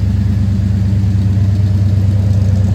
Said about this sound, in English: Car sounds great, runs great, drives great.